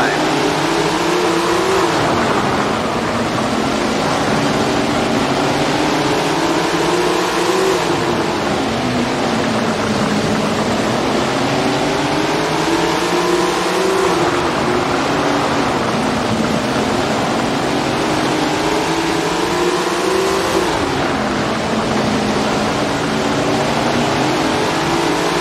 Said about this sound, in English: Listen to these engines roar as they roll to the line.